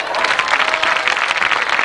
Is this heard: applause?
yes